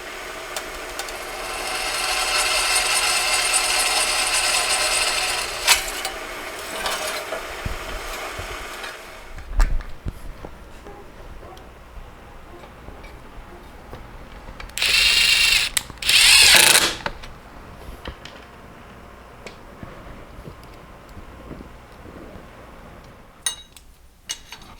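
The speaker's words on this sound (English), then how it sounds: "Let's screw into that wood." Wood screws are driven into wood to hold a plate on a shop-made bandsaw belt guard, with a steady grinding, rasping drive, scattered clicks, and two loud close bursts midway.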